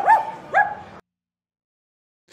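Two sharp barks in quick succession, near and fairly loud, followed by silence; a person imitating a dog.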